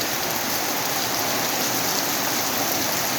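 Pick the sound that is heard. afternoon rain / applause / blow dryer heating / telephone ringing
afternoon rain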